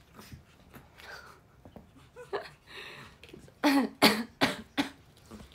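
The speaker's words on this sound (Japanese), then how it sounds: "ごめんちょっと咳喘息がたまに出るけど" Several loud, harsh asthmatic coughs in a quick burst from someone close by, after a stretch of quieter rustling and soft handling noises.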